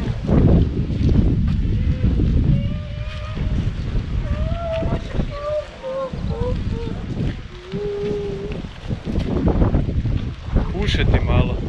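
Wind blows by the sea on the island of Prvić, a steady rushing buffet across the microphone while people talk throughout and faint whistling tones drift in the background.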